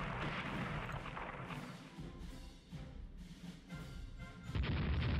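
Naval guns fire in Rule the Waves as tertiary batteries hit an enemy ship at close range, producing repeated deep booms and rumbling blasts that roll through the scene, with a heavier crash near the end.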